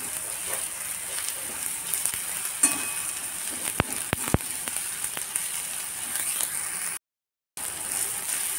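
Onion and tomato with kokum sautéing in a pan for a dried-fish sukat, a soft steady sizzle with a few sharp utensil taps, then a brief dropout before the frying resumes.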